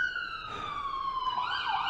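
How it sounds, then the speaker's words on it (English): Two ambulance sirens wail together, a loud, steady rising and falling electronic tone with a bending pitch near the end, close by and with no other sound over it. "2 ambulances."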